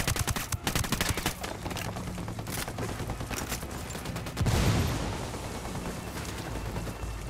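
Rapid gunfire in the tactical shooter game Ghost Recon Wildlands, loud crackling volleys of shots in quick succession, with a heavier burst partway through and rumbling echoes after.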